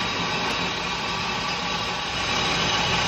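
A metal lathe running up to 1500 RPM for re-dishing a piston, a steady, loud, close machine hum with broad whirring noise and no talking.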